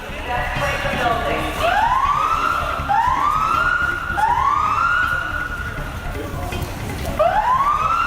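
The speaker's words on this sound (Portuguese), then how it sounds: "A sirene avisou a tempo sobre o perigo iminente" A loud siren wails in repeated rising sweeps, each tone climbing and holding, over a steady rumbling background with traffic-like noise.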